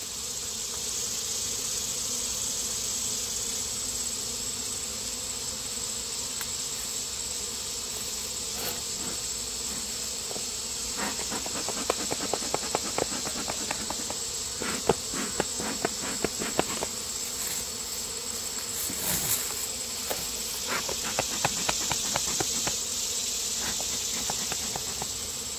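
Honeybees from backyard hives drone in a steady, dense buzz throughout, with louder passing wingbeats close by during a hive inspection as a smoker is used on bees near the ground.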